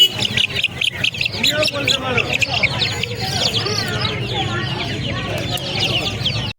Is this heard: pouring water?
no